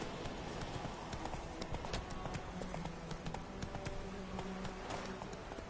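In The Witcher 3, the horse Roach gallops with rapid, steady hoofbeats that run unbroken from start to finish at a moderate, close level, with no talking.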